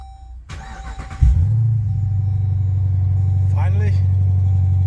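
A Dodge Durango engine cranks briefly and catches after a battery replacement, then settles into a steady, loud, close idle that holds to the end, with a short stretch of speech partway through.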